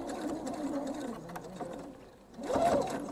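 A sewing machine top-stitches along the edge of a thread catcher in a steady, close mechanical whir, pausing briefly before running again louder, with faint voice in the background.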